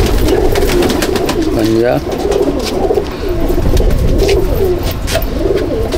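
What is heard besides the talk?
pigeon cooing at a loft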